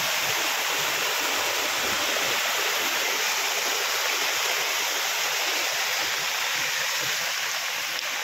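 Heavy floodwater rushing through a village, a dense, loud, continuous roar of flowing water close by with no voices.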